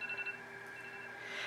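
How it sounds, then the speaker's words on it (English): A phone alarm goes off with a steady electronic tone that holds for a moment and then brightens, sounding fairly close and alone without any talking. "oh, that's my alarm."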